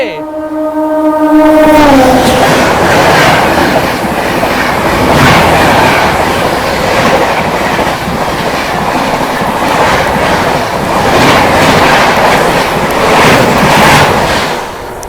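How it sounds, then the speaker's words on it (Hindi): An Indian Railways Bhubaneswar Tejas Rajdhani express overtakes the Amrit Bharat Express standing on a loop at Mitawali, opening with a loud sustained horn blast and then a close, continuous roar of rolling wheels and rapid clickety-clack. "पीछे से आ रही है भुवनेश्वर तेजस राजधानी, ओवरटेक मारने अमृत भारत को मितावाली पे"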